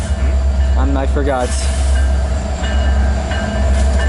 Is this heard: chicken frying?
no